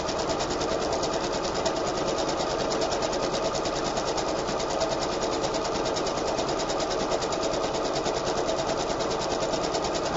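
A sewing machine runs steadily on a long zigzag stitch through fabric for pocket tucks, its fast continuous whirring and needle chatter loud and close from start to finish, with no one talking.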